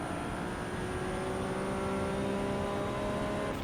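A Ferrari 296 race car in the iRacing sim accelerating out of a corner at Algarve, a loud sustained engine note rising steadily in pitch through one gear, heard alone.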